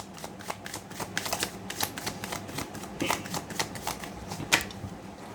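A tarot deck shuffled by hand, with rapid papery riffles and flicks in quick bursts and irregular rhythm, close to the microphone with no one speaking.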